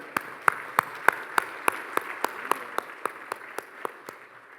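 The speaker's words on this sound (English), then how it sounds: "Please give us a big clap." Slow, evenly spaced claps ring out one at a time, roughly three or four per second, from an audience honouring FAPRA delegations at an Asia Pacific retail convention. The claps are sharp and moderately close over a quiet hall.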